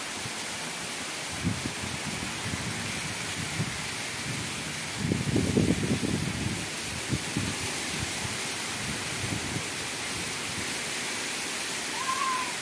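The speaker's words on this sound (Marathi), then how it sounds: "अचानक पाऊस आला 5:30 वाजता." Heavy sudden evening rain pours steadily in a dense, constant hiss, with a louder surge of rushing water in the middle and low rumbles scattered through.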